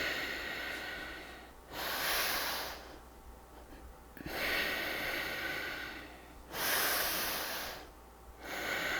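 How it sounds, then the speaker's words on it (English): Deep diaphragmatic belly breathing during a yoga class, long slow airy inhales and exhales alternating in a steady rhythm, close and clear with no talk. "breathing into your belly, diaphragmatic breath"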